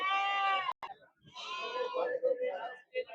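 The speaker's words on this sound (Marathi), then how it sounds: "गावरान शेळ्या आहे." Native goats at the Talegaon Dhamdhere goat and sheep market: a loud, close, wavering bleat opens, then shorter cries and voices from the market crowd mingle.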